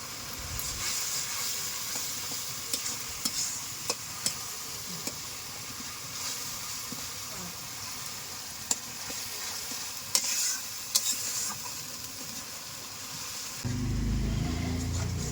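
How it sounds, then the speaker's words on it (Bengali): A turmeric-spiced masala paste fries in oil in a pan over a village clay stove, with a continuous loud sizzle and hiss and repeated spatula scrapes and taps, ending in a brief low rumble. "মশলার থেকে যতক্ষণ তেল না ছাড়ে ততক্ষণ মশলাটা কষে নিতে হবে"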